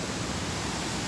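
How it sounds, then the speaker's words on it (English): A waterfall roars as a steady, loud wash of rushing water filling the whole moment, unbroken and with no voices. "I didn't know there was a waterfall like that here."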